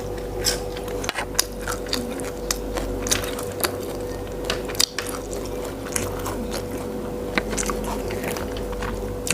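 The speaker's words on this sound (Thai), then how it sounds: "ผักสลัดก็กรอบกรอบ" Someone bites and chews crisp fresh salad greens alongside crispy pork and rice, steady close-up crunching and chewing with sharp crackles throughout and no speech.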